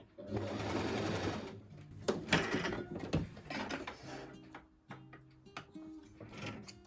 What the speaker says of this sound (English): I'm gonna sew till here and also cut the thread